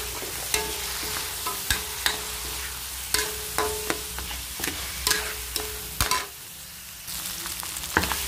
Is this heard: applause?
no